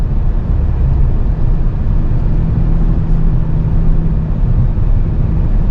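A 2024 Toyota Camry TRD's engine drones steadily as the car drives and shifts through gears, a constant low rumble with a faint tonal hum and no speech.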